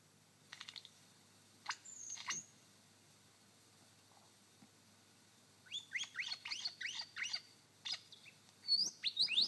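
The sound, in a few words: lyrebird mimicking crimson rosellas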